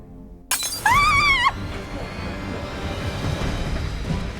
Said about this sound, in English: The glass shattered, as if something had been thrown at it.